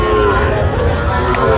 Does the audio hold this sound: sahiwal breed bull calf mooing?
yes